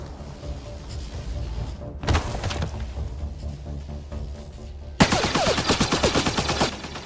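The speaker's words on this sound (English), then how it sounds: "Just keep firing, we can do this!" Rapid bursts of gunfire in a Star Trek film battle, a dense crackling volley starting partway through, then a louder, sharper stretch of repeated shots near the end, with no speech.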